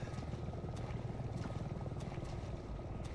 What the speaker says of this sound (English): Hey, look, it's a helicopter.